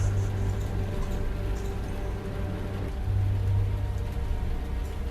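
Steady rain falling at night in a radio drama, a continuous even hiss of drops with a low hum underneath and no talking.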